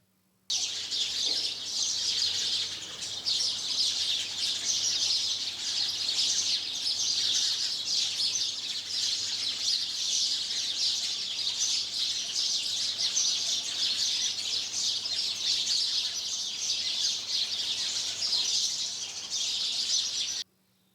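House sparrows chirp busily around a nest, a dense, continuous chatter of many overlapping high tweets that stays loud and steady for about twenty seconds with no talking.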